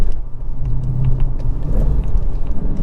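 A 2019 Dodge Challenger R/T with a six-speed manual on the move, its engine a deep, steady low rumble with road noise, heard from inside the car and fairly loud.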